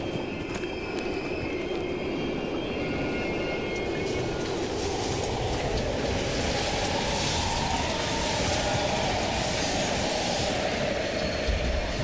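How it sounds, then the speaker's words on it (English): A train rumbles past at an abandoned East German station in Call of Duty Black Ops Cold War, a loud continuous roar with rattling wagons and a faint clickety-clack. "We can use a train to slip past."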